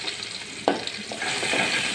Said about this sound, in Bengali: নাড়াচাড়া করে নিচ্ছি।